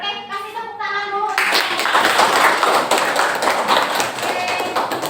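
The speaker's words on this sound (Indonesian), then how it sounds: "Oke, kasih tepuk tangan dulu." A class of students breaks into dense, sustained clapping for a group in a coding lesson, following a brief stretch of a voice at the start.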